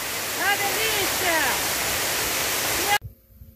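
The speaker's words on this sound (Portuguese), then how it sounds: "Ó, oh, cachoeira." A waterfall at Cachoeira Berro D'água in Albertina, Minas Gerais, roaring as a loud, steady broadband rush close by, with excited voices calling out over it before it cuts off abruptly near the end.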